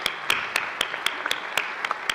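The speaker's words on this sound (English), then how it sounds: "can we just please start by giving Dr. Sam Page and his entire leadership team a round of applause for the amazing work" Sparse applause at a St. Louis County State of the County address, a few distinct near claps over a thinner background of audience clapping, fairly quiet and brief.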